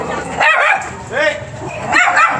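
Two dogs sleeping under a bridge bark and yip in short bursts, close by, with whimpering between barks and people talking nearby.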